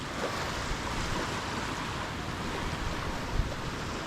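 Steady roar of sea surf with constant wind noise, a broad continuous wash that stays level throughout, no voices.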